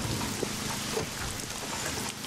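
Steady rainfall in the SCUM survival game, a continuous broadband hiss of drops pattering on surfaces, fairly loud and even throughout with no talking.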